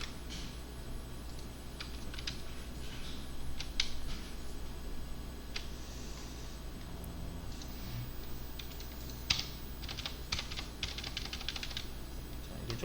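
Computer keyboard keys pressed for a Ctrl+F search shortcut, a scatter of quiet, irregular clicks and taps over steady room hiss, with no voices.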